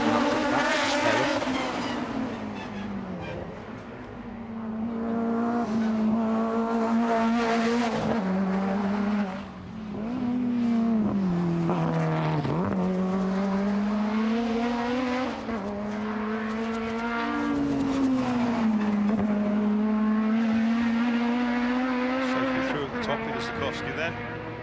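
A Lola experimental race car driven by Lord Drayson at the Festival of Speed timed shootout screams loudly and continuously close by, its engine pitch rising through gears with brief dips at shifts.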